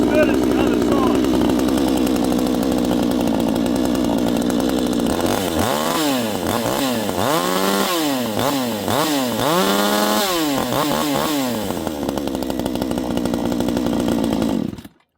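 A Vevor chainsaw runs close and loud after a pull start, idling steadily for a few seconds. It then revs up and down in repeated surges before settling and cutting off abruptly at the end.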